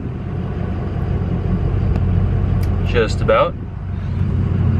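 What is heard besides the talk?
Ford 6.0 Powerstroke diesel truck engine idling at operating temperature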